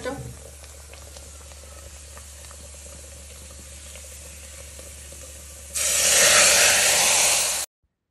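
Steady low frying noise gives way to a loud, bright sizzle as garlic tempering in hot oil hits a pot of dal, hissing strongly for a couple of seconds before cutting off.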